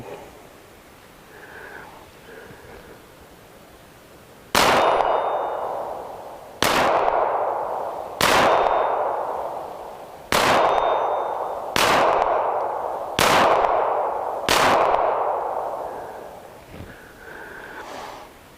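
Seven sharp pistol shots from a Glock 42 in .380 ACP, loud and close, fired at uneven intervals of a second or two, each with a short ringing decay and no talk between.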